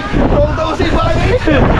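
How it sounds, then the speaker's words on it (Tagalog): Steady roar of wind and heavy rain blasting the microphone, with a voice speaking over it throughout. "Ang lakas na ho ng ulan."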